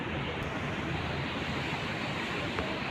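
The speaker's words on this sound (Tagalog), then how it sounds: "may alon." Ocean waves wash steadily onto a beach at Boracay, a continuous soft rushing surf mixed with some wind, with no voices heard.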